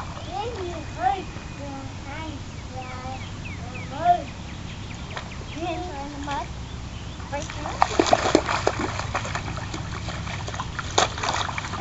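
A splash in muddy water during a rainy outdoor moment, one brief watery slosh near the end amid a child's and an adult's chatter, with birdsong and faint background noise throughout.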